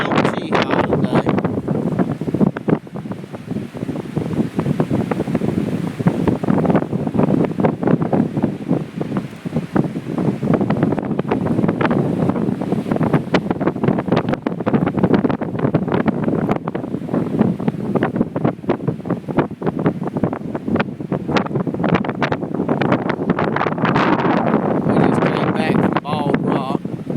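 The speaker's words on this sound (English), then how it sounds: "It is windy on Mt Cheaha today." Strong wind buffets the microphone on Mt Cheaha, a loud, gusting rumble and roar that persists the whole time with constant fluttering bursts.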